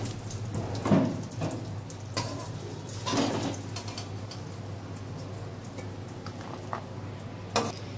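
Bay leaves and cashews fry in hot oil in a pan while being lightly stirred, giving a steady, soft sizzle broken by a few faint scrapes and taps of the spoon.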